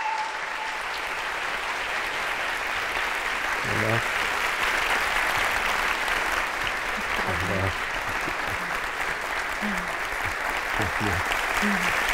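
An audience of roughly 650 people at a live talk event applauds in a steady, dense wash of clapping that lasts throughout, with a voice briefly speaking over it.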